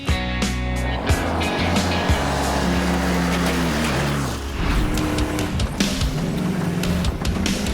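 A Class 11 VW Baja off-road race car revs loudly through repeated climbing engine notes and gear changes, with rough rattling and clattering bursts as it drives close by.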